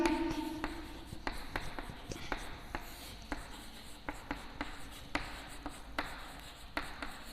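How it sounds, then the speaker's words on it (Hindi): A teacher writes on a board during a Hindi class: a run of quick, crisp strokes and taps, some sharp and some softer, scattered irregularly over a quiet room hum at moderate, close range. "अब देखिए यहाँ पर मैं लिखती हूँ"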